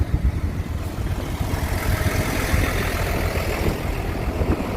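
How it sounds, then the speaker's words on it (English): A tractor engine idles steadily on a rainy January day, a continuous low rumble holding an even level throughout with no talk over it. "Tractor's running already"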